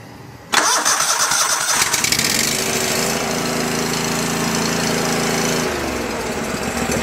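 A small Go-For digger engine, found at an estate sale and run with the choke on and no air cleaner, catches abruptly and runs loud and steady for several seconds before its pitch drops a little.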